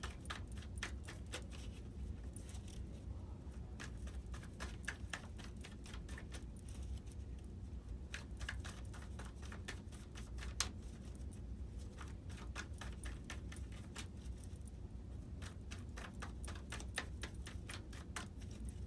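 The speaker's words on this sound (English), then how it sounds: "let's finish shuffling these cards" Tarot cards being shuffled over and over, a steady flutter of quick papery clicks and riffles that goes on without pause at close range.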